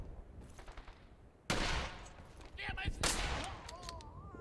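Incoming gunfire in Brothers in Arms: Hell's Highway, a sudden loud volley followed by further rattling shots and battle noise, with a voice faintly under it.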